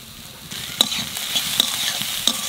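Chopped garlic and onion sizzle steadily in a hot pan for a black cumin mash, with a few sharp scrapes as a spoon stirs them close by; no one speaks.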